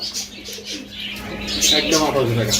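Fancy pigeons coo in low, soft murmurs close by, with a few light chirps mixed in.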